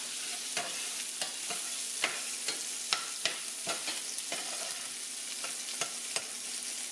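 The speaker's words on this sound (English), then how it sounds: "So I'm just kind of lightly going to brown this. Kind of got it on low heat." Chopped onion browning gently in a pan over low heat, a steady soft sizzle broken by sharp clicks and scrapes of stirring at irregular intervals, close up with no talking.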